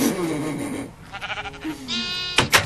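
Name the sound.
sheep bleating in Minecraft video game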